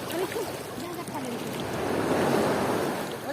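Surf washing ashore at a sea beach, a steady broad rushing wash swelling slightly toward the end, with wind buffeting the microphone and faint voices in the background.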